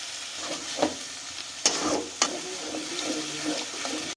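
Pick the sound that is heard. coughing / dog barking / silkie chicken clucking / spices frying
spices frying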